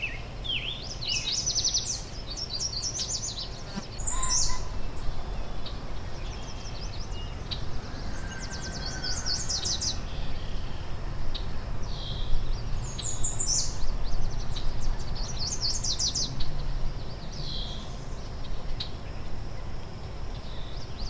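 Small birds chirp and tweet among trees at a wildlife safari park in the USA, bright repeated calls in short bursts over a quiet outdoor background, with no talking.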